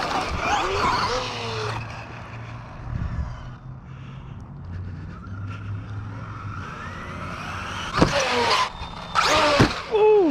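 A Traxxas Maxx Slash RC car drives and skids outdoors, with sharp bursts of high motor whine and tire scrabble at the start and again near the end, and a quieter, lower hum between.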